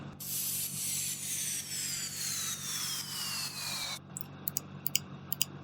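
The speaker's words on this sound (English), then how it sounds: "So this is what I did for the downlifters." Downlifter effect from an emotional progressive house track: a filtered noise sweep with whistling tones that glide steadily downward for about four seconds, followed by a few short, sharp percussive ticks.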